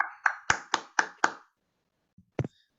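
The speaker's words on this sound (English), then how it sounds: "Okay guys, let's clap for beautiful Betty." Clapping at a public speaking course: five quick sharp claps in a steady rhythm, close and clear, then a pause and a couple of lighter stray taps, with no talk.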